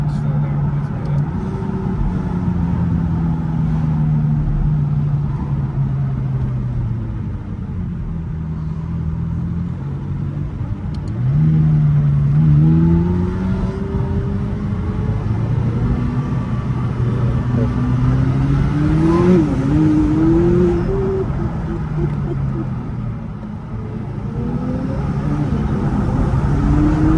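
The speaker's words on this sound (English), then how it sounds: "You can listen to that V8. I hope the camera can pick up the sound." A McLaren 570S Coupe's V8 engine drones and revs from inside the car, a loud low rumble that rises and falls in pitch as it accelerates, with someone talking over it.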